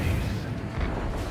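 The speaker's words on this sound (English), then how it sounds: "I want to hear the macro cannons roar." Macro cannons fire in the Warhammer 40,000 game Rogue Trader, giving a steady, heavy booming rumble that rolls on without a break, loud and close, with no talk over it.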